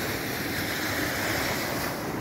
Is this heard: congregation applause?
no